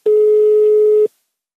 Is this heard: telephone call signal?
yes